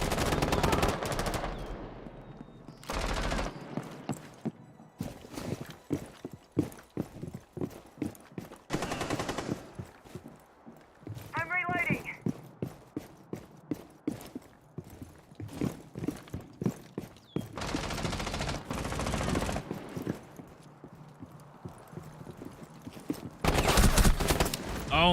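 Rapid bursts of automatic gunfire from the tactical shooter Valorant, played as Killjoy in solo queue, crackle in repeated volleys with scattered single shots and footsteps between them, loud and close throughout.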